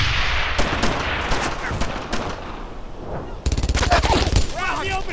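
Bursts of rapid machine-gun and rifle fire crackle through a World War II firefight in the video game Brothers in Arms: Earned in Blood, dense volleys starting and stopping, with shouted voices between them.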